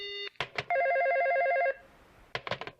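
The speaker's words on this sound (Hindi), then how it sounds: "लगता है दूसरी कॉल आ रही है" A cartoon telephone rings with an incoming call: one long, loud electronic ring of alternating two-tone warbling, set between short bursts of other sounds.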